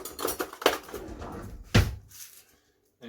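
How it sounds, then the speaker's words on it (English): A knife grabbed from among kitchen cutlery, several metallic clinks and a louder clatter of utensils knocking together, close by, then falling quiet. "And then you grab a knife."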